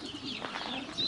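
Cooing of Russian fighting (tumbler) pigeons in a keeper's loft, soft low murmuring coos blended with faint chirps, close and continuous with no talk.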